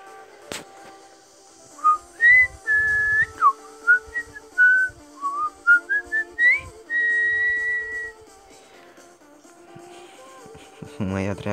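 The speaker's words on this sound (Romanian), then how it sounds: "Mă ia dracu să fluier." Someone whistles a wandering tune in short and sustained clear notes, close and solo, with a few soft knocks and a brief burst of other sound at the end.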